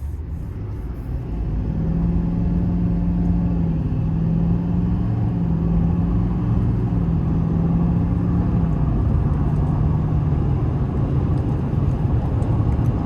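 A 2026 Chevrolet Silverado 2500HD LT with the Duramax diesel accelerating, heard from inside as a steady, loud low engine drone with a rising tone that climbs and holds under a constant road rumble.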